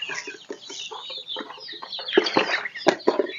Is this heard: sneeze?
no